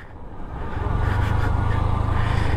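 A vehicle's engine drones low and steady while engine braking down a steep hill road on the way to Debotakhum, swelling slightly louder over a few seconds, close and alone with no talk.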